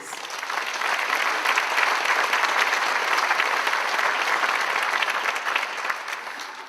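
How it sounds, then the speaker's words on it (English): A university audience at a fall address at Indiana State University breaks into a full round of dense applause that swells quickly, holds steady and loud for several seconds, then tapers off slightly at the end. "Give yourself a round of applause, please"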